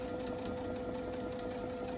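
A sewing machine stitches down skirt pleats of a pickleball dress, a steady, rapid mechanical whir with quick rhythmic needle ticks, faint but continuous throughout.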